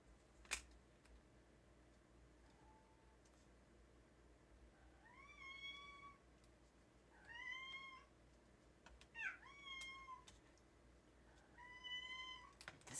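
A cat meows several times, with clear rising and falling cries spaced apart over a quiet indoor background and no talking.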